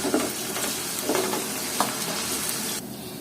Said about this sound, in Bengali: এবার এগুলো একটু ভেজে নেব।